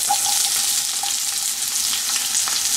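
Finely chopped onions frying in a pan for chicken liver curry, a loud, steady, close sizzle with faint stirring clicks throughout.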